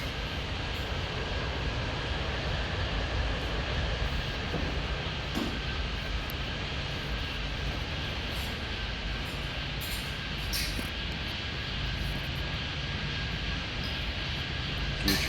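Jet airliners at Chicago O'Hare International Airport produce a continuous, loud, broadband engine roar that stays steady throughout, with faint distant sounds on top.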